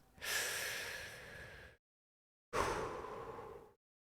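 Two long, deep breaths taken close by as part of a calming breathing exercise, each a drawn-out rush of air lasting over a second, separated by a short silence, with no talking.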